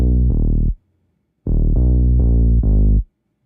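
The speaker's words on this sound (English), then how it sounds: "this one is called DSVDR Serum Bass Blender." Reggaeton Serum synth bass preset, DSVDR Serum Bass Blender, playing a short pattern: two sustained notes, a pause, then four more notes in a row, loud and dry with no talk.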